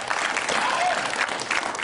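Studio audience applause on an Indonesian television segment about youth football, a brief, dense burst of clapping throughout.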